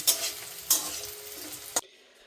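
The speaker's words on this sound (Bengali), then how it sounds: "আজকে ডিরেক্ট মাংস রান্না করে নিচ্ছি" Meat cooking in an oil-and-spice pan for a Sunday home meal, a steady sizzle and fry with a few sharp stirring scrapes that break through, close and loud, with no talk.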